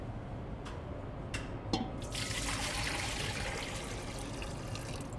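Water pours steadily into a bread dough mixer bowl for a honey whole wheat pan loaf, a continuous splashing trickle that begins after a few faint clinks and runs on alone.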